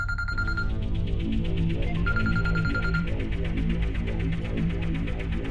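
A telephone rings during a call, a repeating electronic ring tone over a low throbbing hum, steady and fairly close.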